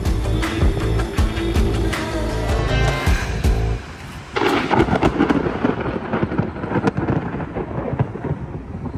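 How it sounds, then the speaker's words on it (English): Storm thunder rumbles heavily over steady rain, with a deep rolling boom that fades, then a fresh crack and crashing peal near the middle that trails off into rain and drips. "The other thing we have against us is a storm cloud lingering in the distance."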